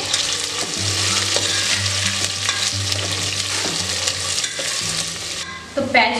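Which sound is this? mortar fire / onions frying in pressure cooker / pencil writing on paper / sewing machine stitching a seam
onions frying in pressure cooker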